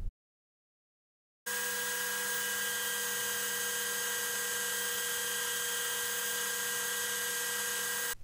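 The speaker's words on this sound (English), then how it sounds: "So I've converted over to the belt sander and put it on an angle." A belt sander set at an angle bevels the edge of a plywood panel. It starts abruptly after a short silence, then gives a loud, steady, high whine with a constant motor tone that holds to the end.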